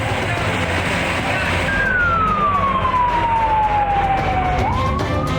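A fire engine siren at a warehouse fire in Jebres, Solo, Central Java, where seven fire trucks responded, sounds one loud, slowly falling wail over heavy street and engine rumble.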